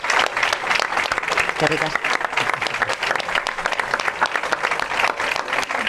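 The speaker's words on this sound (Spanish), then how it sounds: "Vamos a darle, si os parece, un fuerte aplauso a todos ellos y ellas." Conference audience applauding, dense sustained clapping from a large crowd filling the hall, with a voice speaking briefly over it.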